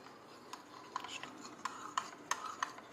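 A spoon stirs custard powder into milk in a cup, with soft swishing and irregular light clinks and scrapes against the sides, fairly quiet and close.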